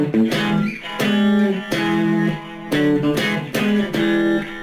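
Electric guitar playing paired harmonized notes from a song, fretted on the third and fourth strings, in a short repeating phrase of sustained, slightly overdriven two-note stabs with brief gaps between them.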